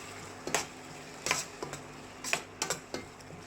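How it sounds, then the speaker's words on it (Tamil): Onions sautéing in a pan for fish curry, heard as a faint background sizzle broken by a handful of short, crisp spatula scrapes and taps. "வெங்காயம் நல்லா வதங்கணும், நல்லா ப்ரௌன் ஆகணும்."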